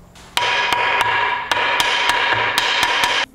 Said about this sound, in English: You're really not supposed to use a metal hammer for this, but I'm just not hitting it way too hard